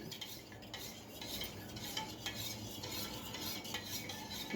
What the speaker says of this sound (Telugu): దీన్ని బాగా తిప్పండి